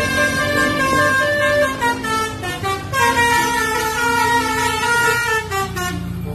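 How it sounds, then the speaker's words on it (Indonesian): Melodic telolet bus horn from a toy bus, a loud continuous musical tune of shifting tones played for several seconds. "Mobil bus telolet."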